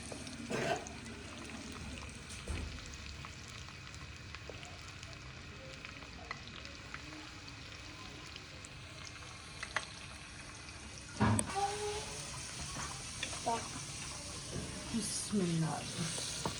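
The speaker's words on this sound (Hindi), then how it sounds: "तड़का हमारा तैयार हो रहा है।" Ground garam masala and black pepper sizzle in hot oil for a tadka, a soft continuous frying hiss with occasional stirring clinks and a brief louder crackle partway through.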